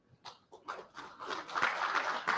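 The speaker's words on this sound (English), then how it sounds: "I think everybody needs clapping for this" A crowd applauds at a business talk on MSME growth in Sikkim, the clapping starting sparse and building into dense, steady applause that fills the room.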